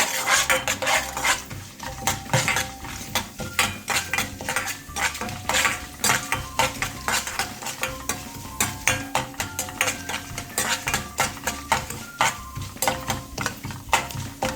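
Urad dal and chana dal sautéed with mustard seeds in a pan for a curd rice tempering: a steady sizzle runs under repeated clinks and scrapes of a spoon stirring against the metal, close and fairly loud throughout.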